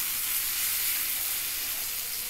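Gram flour batter sizzles loudly and steadily in a hot pan while it is spread thin with a spatula for a papaya dhoka recipe. The hiss is close and continuous, with no talk.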